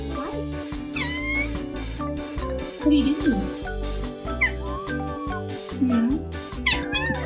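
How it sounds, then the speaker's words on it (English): A stray cat gives several short, voice-like meows and chirps close by, mixed in with a steady hum and a person talking and laughing throughout. "No more meowing, it's straight up saying hi now."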